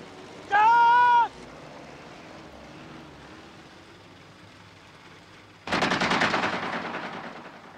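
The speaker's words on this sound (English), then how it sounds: "Maybe warning shots, sir." A 1981 desert war film scene starts with a short whistle-like tone, then a quiet lull, then a loud burst of rapid machine-gun warning shots that carries on to the end, with no talking.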